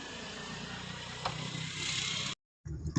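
A car engine idling as someone climbs in, a steady low rumble with a brief knock partway through, then a short cut before the engine noise resumes.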